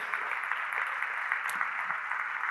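A church congregation applauding during a sermon, a steady, even wash of clapping from many hands that holds for the whole stretch at moderate distance, with no talking over it.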